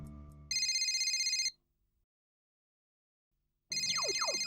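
A telephone bell rings in a loud burst, stops for a couple of seconds of silence, then starts ringing again.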